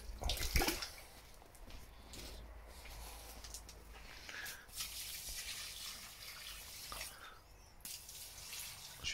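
Water pours onto cucumber plants in a garden, a soft continuous splashing and trickling at close range with a few louder spills, no talking.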